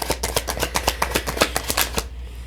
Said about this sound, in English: we'll give a nice good shuffle and see what messages we receive for Virgo